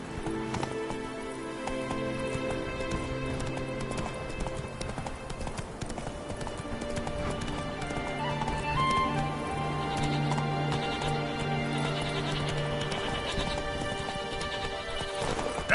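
Roach, the horse in The Witcher 3: Wild Hunt, gallops with a rapid, continuous clip-clop of hooves over layered game music, steady and fairly loud throughout.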